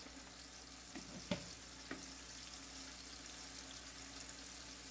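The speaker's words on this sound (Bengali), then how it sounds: "মশলাটা ভালো করে কষিয়ে নেবো ভিতরে একেবারে হলুদ" Ground spice paste with turmeric being fried and stirred in a pan for a Bengali baim (eel) fish curry, a quiet low sizzle with a couple of sharp utensil taps early on and no talk.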